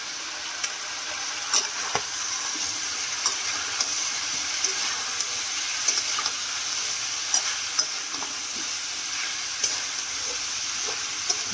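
Chicken fries in a hot pan with a constant, loud, close sizzle and hiss that is catching on the bottom, broken by occasional sharp clicks and crackles, with no talking.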